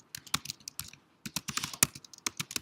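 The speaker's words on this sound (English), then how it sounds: "if I can type today" Rapid typing on a computer keyboard, irregular clusters of clicky keystrokes with a short pause in the middle, close and fairly loud with no voices.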